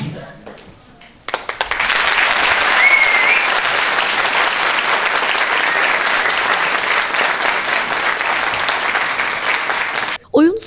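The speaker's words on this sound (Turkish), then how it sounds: "Tımarhane Manzaralı Konak adlı oyunu izleyicilerden büyük alkış aldı." A theatre audience gives a municipal theatre group's play a big round of applause, dense and loud clapping that starts abruptly after a quiet moment and holds steady for about nine seconds before cutting off.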